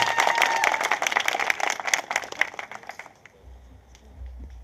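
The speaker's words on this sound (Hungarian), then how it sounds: "a közönség saját magát tapsolja meg" An audience at a slam poetry open mic in Szeged applauds, a dense, fairly close wash of clapping that keeps up for about three seconds and then thins out into a few scattered claps and quiet room noise.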